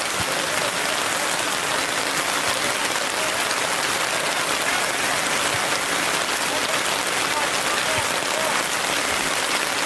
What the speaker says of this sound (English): the rain really starting to get violent here at Langley High School